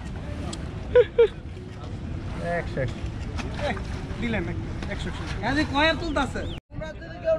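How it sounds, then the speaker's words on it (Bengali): A boat's engine drones with water and wind noise as it pulls away from a landing at Mithamoin, Kishoreganj, while several people talk and call out nearby. "আমাদের নৌকাটা ছেড়ে দিল ঘাট থেকে"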